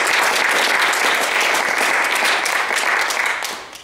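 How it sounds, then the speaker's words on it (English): Audience applause at a music recital, a full, close burst of clapping that holds steady for a few seconds and then fades. "so give him a round of applause"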